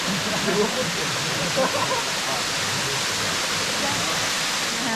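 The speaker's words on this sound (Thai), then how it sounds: "มองขึ้นไปด้านบนเห็นยอดเขาแล้วก็น้ำตกไหลลงมานะฮะ" Erawan Waterfall in Kanchanaburi, Thailand, pours in a loud, constant roaring rush of water, with a voice faintly audible beneath the steady noise.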